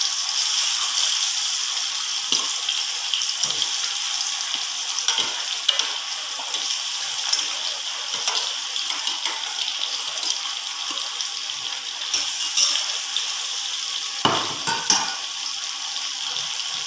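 Fish frying in mustard oil in a wok, a steady loud sizzle that runs unbroken throughout, with occasional stirring scrapes and a brief louder crackle near the end; no voices.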